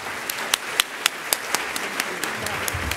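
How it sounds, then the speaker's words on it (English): Applause from an audience after a keynote at a conference, heard as sparse, spaced-out claps at moderate distance, fairly thin and faint. "But let's give another round of applause for Secretary Jewell."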